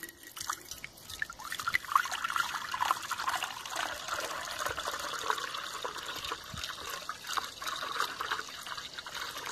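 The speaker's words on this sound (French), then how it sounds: "je vais mettre 6 litres d'eau dedans" Six litres of water poured into an unglazed clay olla, a steady close splashing and trickling stream that runs continuously at an even level, with no voices.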